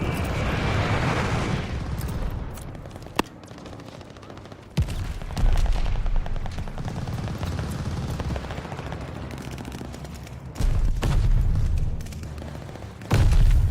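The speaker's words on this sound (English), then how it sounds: "Friendly bombing run inbound. Allied glide bomber on the way." Allied glide bomber bombing run in Call of Duty Vanguard, a sustained rumbling barrage of gunfire and explosions with sharp individual blasts standing out, loud and continuous.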